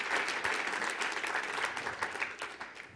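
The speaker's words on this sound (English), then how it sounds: "So please, one more round of applause for all of them." An awards-ceremony crowd applauds athletes with continuous, even clapping that stays fairly loud and thins a little toward the close.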